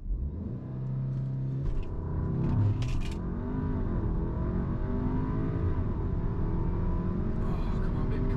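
A stock-engined 2015 Audi A3 AWD with a Stage 1 tune roars close by as it launches down a quarter-mile drag strip, the engine note rising through repeated gear changes in one sustained pull.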